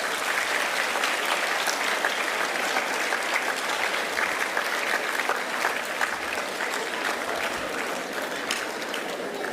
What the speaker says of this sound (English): the leader of the school deserves a big round of applause from all of us